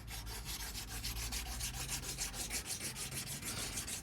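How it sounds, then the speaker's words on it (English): Ordinary school chalk rubbed steadily across the face of a wooden guitar part in a workshop, a close, continuous dry scraping in quick repeated strokes with no talk. "we use some ordinary school chalk. And we cover the face of the wood where you've just been rubbing down"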